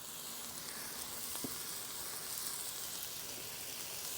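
Ribeye beef fat and onions sizzle steadily on a flat-top griddle, a continuous bright frying hiss at a quiet level, with no voices.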